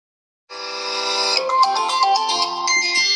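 A ringtone played through the dual speakers of a vivo Y19s phone: a bright, melodic electronic tune starting abruptly after a brief silence, steady and fairly loud, with rich tonal layers and quick note changes.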